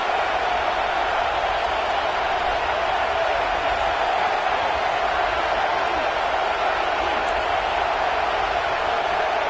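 Stadium crowd at a football game roars for the defense on third down, a dense, steady wall of cheering and noise that stays loud throughout without letting up.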